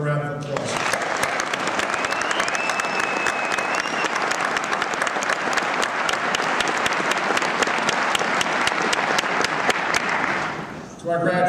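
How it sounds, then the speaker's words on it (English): Sustained applause from a large graduation audience at an NYPD police academy ceremony, dense steady clapping filling the hall for about ten seconds before tapering off abruptly at the end. "Let's give them a round of applause."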